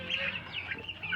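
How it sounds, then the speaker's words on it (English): Turkeys on a farm give a short burst of close clucking, gobbling calls, moderately loud and alone for just over a second. "I'll go show you my turkeys right now"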